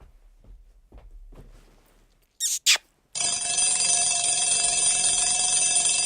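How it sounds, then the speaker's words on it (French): An alarm clock on a radio broadcast gives two sharp bursts, then rings loudly and steadily without a break after a few seconds of near-silence with faint talk. "Le réveil est toujours brutal."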